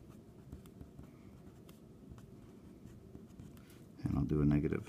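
Pen scratching on paper as a math equation is written out, soft, steady scribbling at close range, with a voice starting to speak near the end.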